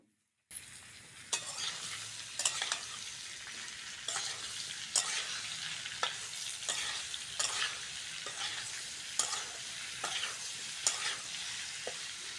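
Amla stirred with sugar in hot mustard oil in a wok for Bengali pickle, giving a continuous close sizzle punctuated by regular scraping strokes of a spatula roughly every second, with no voices.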